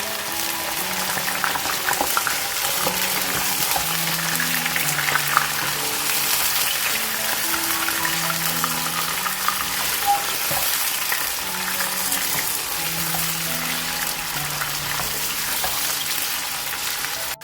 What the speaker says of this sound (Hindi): गोश्त को डालेंगे और थोड़ा सा फ्राई करेंगे